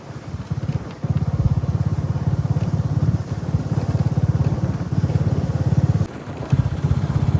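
A motorbike rides through Chilapata forest, its engine a steady, loud, rhythmic throb that holds throughout, with wind rush and a brief dip just past the first second and again near the sixth.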